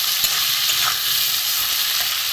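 Potatoes and raw banana fry with black cumin, green chilli, salt and turmeric in a pan, making a loud, even, hissing sizzle with faint stirring taps throughout and no voices.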